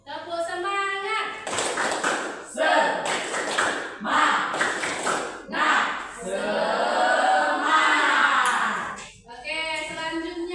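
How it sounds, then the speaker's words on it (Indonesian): A school class does a rhythmic spirit clap, with short loud bursts of group clapping in a patterned beat, alternating with children's chanting voices close by. "Ayo untuk lebih semangat kita buat dulu tepuk semangat"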